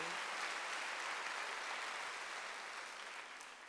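Congregation applauding during a Sunday church service, a dense steady wash of many hands clapping that fades slightly toward the end, with no voices over it.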